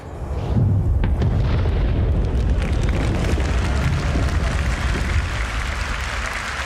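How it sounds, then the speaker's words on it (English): A large Star Citizen video game explosion with a shockwave element and a delayed speed-of-sound effect: a loud, sustained roaring rumble that swells in quickly and holds with dense crackling debris throughout, no voices. "Finally, the really cool stuff, explosions."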